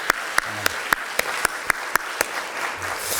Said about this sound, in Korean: 우리 하나님께 다시 한번 영광의 박수 드리겠습니다.